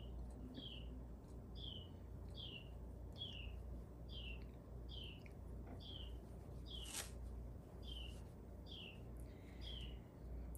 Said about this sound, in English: Can y'all hear the birds outside today?